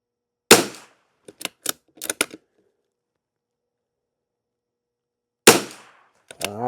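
Rifle shots fired with CCI subsonic ammunition at a shooting range, sharp and close, a few separated cracks with faint mechanical clicks between them, then another shot several seconds later.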